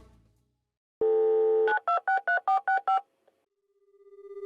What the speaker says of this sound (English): I called the phone in their house.